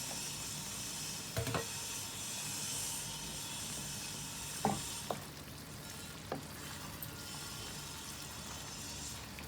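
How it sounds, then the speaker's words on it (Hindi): Chicken karahi with yogurt frying in a pan, giving a steady soft sizzle and hiss with occasional scraping stirs and clinks, heard alone and fairly quiet. "उसके बाद हम लोग इसकी भुनाई कर लेंगे"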